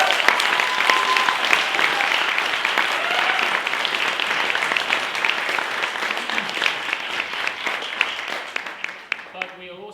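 Sustained applause from an audience at an academic ceremony honouring a new honorary professor, dense and steady for nearly the whole stretch before thinning into scattered claps and a voice at the end.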